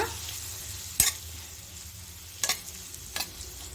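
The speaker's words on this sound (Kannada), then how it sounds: "ಎಣ್ಣೆ ಚೆನ್ನಾಗಿ ಬಿಸಿಯಾಗಿದೆ ಇಲ್ಲಿ ನಾವು ಕೋಟ್ ಮಾಡಿ ಇಟ್ಕೊಂಡಿದ್ವಲ್ಲ ಆ ಪನ್ನೀರನ್ನ ಬಾಣಲಿಗೆ ಹಾಕೊಳ್ಳೋಣ ಹಾಕ್ಕೊಂಡು ಒಂದ್ಸಲ ನೀಟಾಗಿ ಮಿಕ್ಸ್ ಮಾಡ್ಕೊಳ್ಳೋಣ" Coated paneer fries in hot oil in a pan under a soft, steady sizzle, and three sharp scraping stirs of a spoon sound at intervals, close by.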